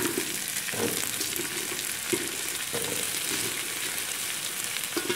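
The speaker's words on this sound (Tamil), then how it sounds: "இப்போ இந்த காய்களையும் இதில் போட்டுடலாம்." Vegetables, including drumstick, radish and carrot, sizzle as they fry in a pot, with a soft stirring scrape repeating every second or so over steady frying noise.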